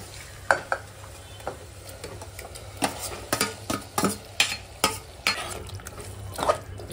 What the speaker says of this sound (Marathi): असं मस्त मिक्स करून घ्या बरोबर.